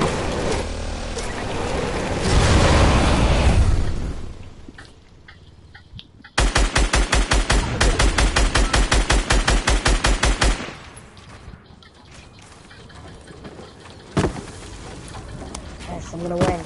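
Video game gunfire with a long run of rapid automatic shots, loud and steady, set between stretches of other game noise and players talking.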